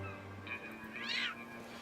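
A cat meows once in a steampunk-style fantasy video game, a short rising and falling call over quiet background tones.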